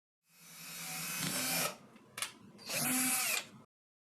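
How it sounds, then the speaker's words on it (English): An electric drill bores a hole through a hat box to take a snug-fitting wooden dowel, whining steadily for over a second, then a brief burst and a second sustained run, close and alone. "Using a drill, I create a hole that is just a smidge too small for the dowel"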